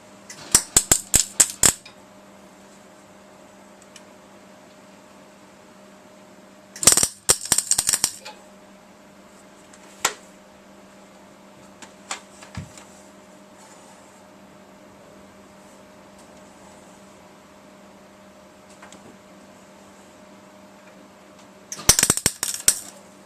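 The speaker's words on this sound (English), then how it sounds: "Weld that in there." Tack welds join a steel engine cage section in a garage: three short clusters of sharp, crackling bursts separated by a long stretch of low electrical hum and a few isolated clicks.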